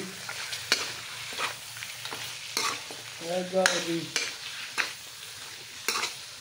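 Ghugni curry sizzles and fries in a pan, with repeated scraping stirs of a spatula close up and a brief voice partway through.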